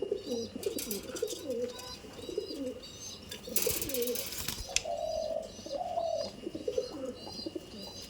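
Pigeons cooing in low, rolling bursts, with a few higher chirps and a brief rustle of wings partway through.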